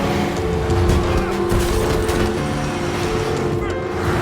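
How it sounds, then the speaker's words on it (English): A car accelerates and rushes past in a gangster film scene, a loud, dense roar sustained throughout with faint tire noise, set beneath a busy soundtrack. "A car accelerated and rushed over."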